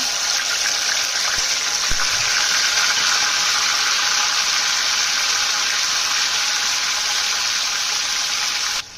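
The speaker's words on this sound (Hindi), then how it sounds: "ये ऑयल गर्म हो चुका है तो हम ये टमाटर डालेंगे।" Chopped tomatoes drop into hot oil in a pan for Sindhi potato chutney, setting off a loud, steady sizzle that holds evenly throughout and cuts off abruptly at the end.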